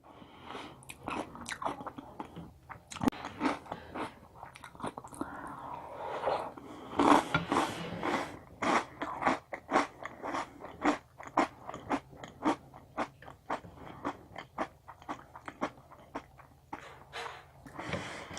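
Crunchy Oreo O's cereal chewed close to the mic, a steady run of loud, crisp bites and crunches for the whole stretch with no talking.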